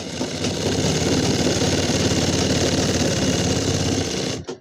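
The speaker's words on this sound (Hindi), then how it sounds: "अब हमने यहाँ पर भी डबल सिलाई लगा दी" A sewing machine runs steadily, stitching a double seam on a pair of pants: a loud, close, continuous mechanical whir that stops abruptly at the end, with no voices.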